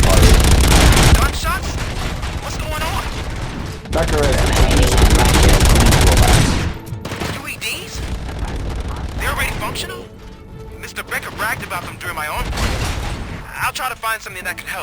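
Rapid bursts of gunfire and booming blasts in the video game RoboCop: Rogue City, loud at first, then sporadic shots with voices talking between them.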